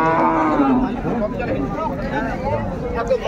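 Cattle mooing in low, drawn-out calls over a busy Raniganj cattle market crowd in Dinajpur, with steady chatter and bargaining voices all around.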